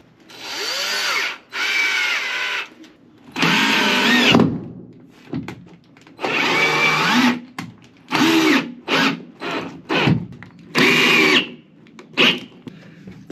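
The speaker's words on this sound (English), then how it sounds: "Kind of preset the screws on that. That way they're easier to screw into the ceiling." A power drill drives screws into the ceiling framing of an Econoline camper van conversion, sounding as a series of loud, close whirring bursts separated by short pauses.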